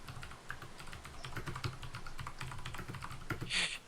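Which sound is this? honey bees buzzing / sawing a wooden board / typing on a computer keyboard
typing on a computer keyboard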